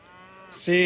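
A cow loose on a town street moos once, loud and close, the low call swelling abruptly toward the end of a short stretch of quieter sound.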